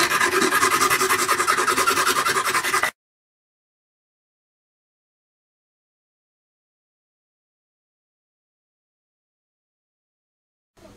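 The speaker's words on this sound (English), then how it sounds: "that's my files, bits and pieces, some sanding blocks" Hand filing and sanding of small miniquad parts, a steady close rasping scrape for about three seconds, followed by silence.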